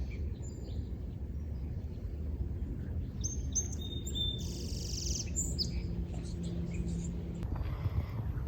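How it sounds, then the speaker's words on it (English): Birds chirp and tweet in short scattered calls by a still lagoon, moderately distant, over a soft steady outdoor hush. "the water is so still and quiet, and all you hear is birds"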